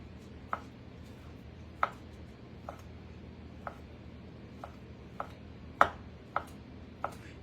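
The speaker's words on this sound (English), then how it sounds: "I'm going to just cut it up in little pieces" Knife cutting turkey into small pieces on a board: about ten sharp, separate chops at an uneven pace, fairly close, over a steady low background hum.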